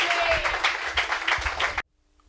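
An audience claps and applauds together during a healing and miracles service, a dense, sustained burst of clapping that stops abruptly into near silence.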